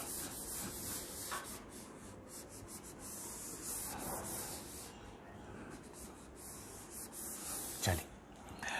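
Writing is rubbed off a board with a steady, soft scrubbing that runs continuously and fairly quietly, with a brief sharper knock near the end.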